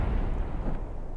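Rocket parts crash and explode on landing in the space-flight video game Howie Space Program, a dense, continuous low rumbling roar of blasts that holds steady throughout, with no talking.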